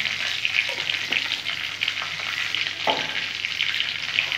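Sugar fries in hot oil with whole cumin and bay leaf while being stirred, a steady bright sizzle running throughout with a few soft scraping strokes of the spoon.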